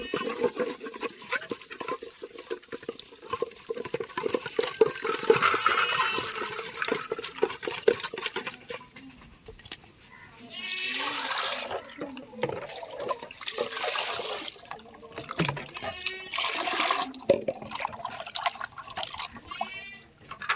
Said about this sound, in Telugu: నీళ్ళు బాగా వేసుకుంటాం